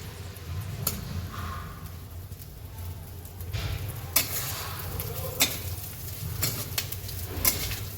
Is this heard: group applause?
no